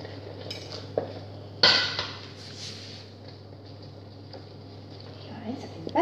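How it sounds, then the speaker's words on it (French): Flour being stirred into hot choux pastry dough for chouquettes in a pan, a few scraping clinks of utensil against the pan, with a person speaking nearby over steady background hum. "on ajoute notre farine. On mélange."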